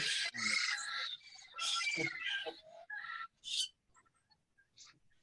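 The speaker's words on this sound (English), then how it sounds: "I think they're parrots, Matt." Parrots squawk in repeated shrill bursts during the first few seconds, fairly loud and close, before thinning to faint scattered chirps.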